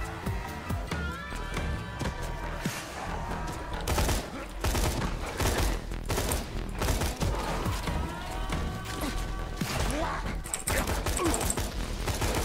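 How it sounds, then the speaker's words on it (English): Constant area-of-effect grenade blasts in Borderlands 2 form a dense, continuous barrage of bursts and crackling impacts amid arena combat noise. "The constant AoE grenade."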